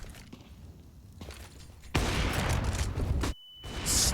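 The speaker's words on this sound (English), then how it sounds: "Actually, very good flashbangs." Competitive Counter-Strike match on Dust 2 with a flashbang grenade going off: a sudden loud burst over a noisy backdrop of gunfire and footsteps, cut by a brief dropout, then a bright high-pitched ringing hiss.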